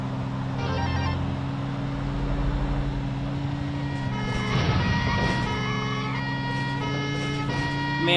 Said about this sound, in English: Man, that siren sounds so much more annoying.